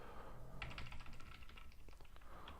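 Text is typed on a computer keyboard, with a quick series of faint, soft keystrokes over a low background hum.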